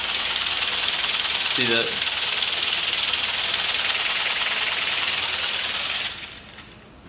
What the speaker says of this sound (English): this is at 30 PSI, and it's actually idling